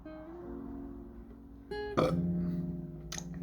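A single loud, drawn-out burp lands near the middle, following low steady droning vocal sounds.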